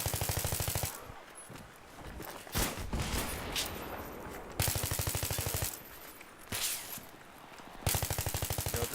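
Gunfire in the Battlefield 3 video game rattles in rapid automatic bursts with a few single heavy shots between them, loud and continuous with no talk.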